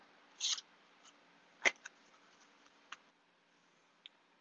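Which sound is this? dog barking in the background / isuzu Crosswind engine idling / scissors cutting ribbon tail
scissors cutting ribbon tail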